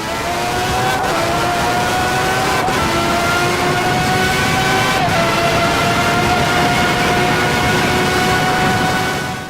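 Onboard a McLaren MP4/6 with its 3.5-litre Honda V12 in the Assetto Corsa racing game, a loud mechanical shriek holds high and steady, dipping briefly at shifts before climbing again.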